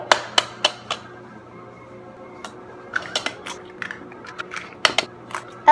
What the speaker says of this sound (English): Now we get 4 eggs, and then we're going to crack them in the bowl.